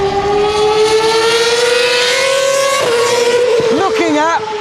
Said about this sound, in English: Looking at and listening to an F1 car